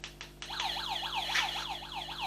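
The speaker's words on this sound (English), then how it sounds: "hit the siren" A warbling wail-and-yelp siren sound effect cycles rapidly and loudly for about two seconds after a couple of short clicks, with no voices.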